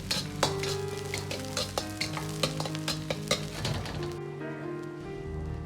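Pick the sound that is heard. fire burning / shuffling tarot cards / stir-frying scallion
stir-frying scallion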